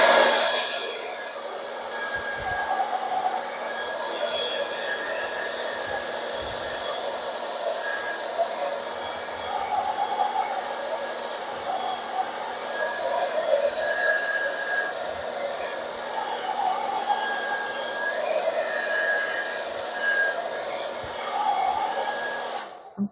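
A hair dryer heats the cracked screen of a Galaxy Tab S6 Lite during glass repair, blowing with a steady whirring hum throughout, its motor tone holding constant with slight fluctuations, up close and with no talking.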